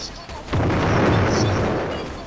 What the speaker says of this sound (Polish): Jeszcze bombę. Bombę walniemy.